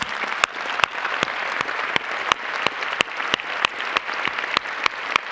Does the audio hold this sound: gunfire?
no